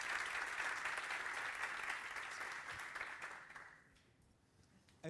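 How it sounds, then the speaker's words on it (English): An audience applauds a presenter at a JavaScript meetup, with dense, steady clapping from a room of people that tapers off toward the end. "I'll just ask for a round of applause for Kiko for this amazing presentation."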